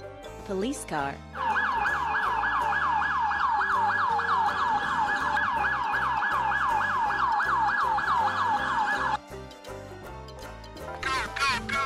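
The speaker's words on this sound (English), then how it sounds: "Police car." A loud police car siren sweeps up and down in rapid, regular cycles for about eight seconds after a short rising whoop at the start, then stops abruptly as another brief siren tone and faint voices follow.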